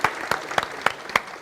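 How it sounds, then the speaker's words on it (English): A small audience at a breakfast fundraiser claps in a steady, even rhythm, with about five distinct clap beats standing out over a brief, close burst of applause. "Give them another round of applause."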